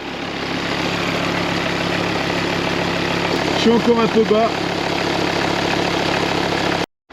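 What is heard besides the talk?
five-cylinder car engine idling after cold start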